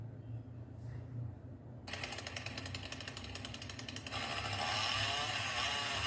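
A chainsaw from the Chainsaw Man anime roars into life, a harsh buzzing mechanical whine that starts abruptly and then grows louder and more intense as it revs, heard alone without talk.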